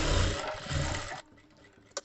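A sewing machine stitches the lining at the corner of a princess-cut saree blouse, a dense, loud, fast whirring run that stops abruptly after about a second, followed by quiet handling and a single short knock.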